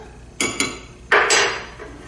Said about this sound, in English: So I'm giving it one last big stir.